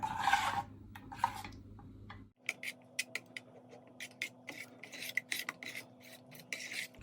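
A metal spoon scrapes and stirs thick batter for Thai chive dumplings in a pan over low heat, with soft repeated rasping strokes close by after a brief rustle.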